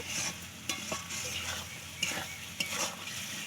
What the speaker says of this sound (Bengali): ভালো করে কষিয়ে নেবে নুন দিয়ে দেবে স্বাদ মতন